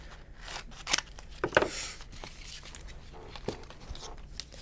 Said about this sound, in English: Let me cut this side.